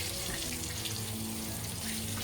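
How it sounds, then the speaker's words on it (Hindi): Water is poured into a pan of eggplant and potato curry masala, making a steady, continuous rushing splash close by with no talking. "इसमें ये पानी भी डाल देती हूँ"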